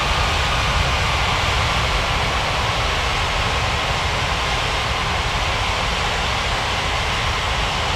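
KLM cargo airplane taking off from runway 32 left, a loud continuous broadband jet engine roar that holds steady throughout, heard from close by with no speech.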